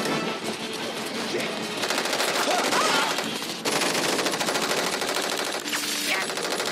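Sustained machine gun fire bursts from a van in the film Four Brothers, loud rapid volleys rattling on for several seconds with short breaks between sprays.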